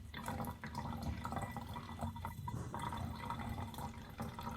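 Oxy cleaning solution glugs and splashes into a Bissell Spot Cleaner Professional tank in a continuous, close pour lasting several seconds.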